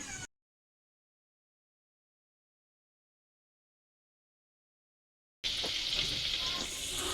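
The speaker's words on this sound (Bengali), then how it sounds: "আমি একটার পর একটা এইভাবে ছাড়তে থাকি। আমি হালকা করে ভেজে নিই, লাল লাল করে।" Nikuti sweets frying in oil with a spoonful of ghee, a steady broadband sizzle rising abruptly after about five seconds of silence and continuing close and fairly loud to the end, without talk.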